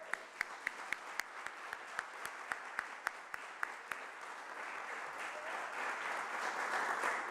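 Audience at a city board of aldermen meeting claps, beginning with a few sharp, spaced hand claps that swell into steady, dense applause filling the room by the end.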